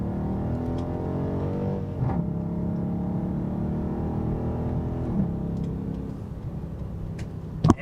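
A car accelerates as the driver gives it gas on a busy road, with a steady engine hum that rises gently, a few faint clicks and a brief knock at the end.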